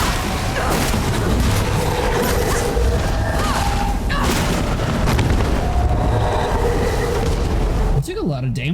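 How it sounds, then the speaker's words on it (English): Explosions in the game Flintlock: The Siege of Dawn, loud booms and crashing bursts over continuous rumbling battle noise, with a person talking over them, cut to quieter sound at the end. "I took a lot of damage from that explosion"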